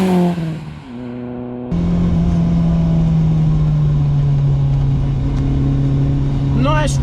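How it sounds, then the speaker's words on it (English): BMW E30 M3 engine revving hard toward redline, a loud, steady drone that climbs and holds high after a brief lull, close and continuous, with a quick rising rev flare at the end. "Nice revving, very free revving."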